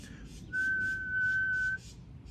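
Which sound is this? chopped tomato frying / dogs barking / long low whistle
long low whistle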